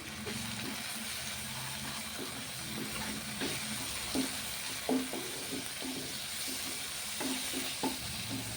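Okra masala curry with chili powder cooking in oil and being stirred, with a continuous sizzle and a run of utensil scrapes and taps against the pan, close and moderately loud.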